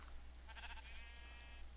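Sheep in the Minecraft video game give a short, faint bleat over a steady low hum, a single wavering call lasting about a second with no talking.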